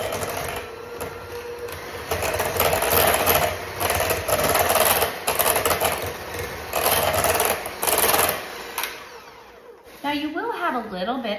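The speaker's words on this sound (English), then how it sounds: "So I'm gonna go ahead and use our mixer" An electric mixer whips a chocolate truffle mixture with Greek yogurt, a loud steady whirr that pulses in bursts and dips briefly near the end, when a voice talks.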